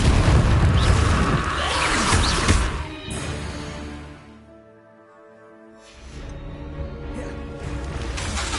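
Incendio fire spells cast in Hogwarts Legacy make loud, roaring fiery blasts. A heavy whooshing burst fades to near quiet and then another surges back, with no voices.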